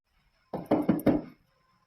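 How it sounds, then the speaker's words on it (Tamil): Four quick, firm knocks on a house door sound close and sharp in an otherwise quiet room. "யார் இந்நேரத்தில் வந்து கதவை தட்டுறது"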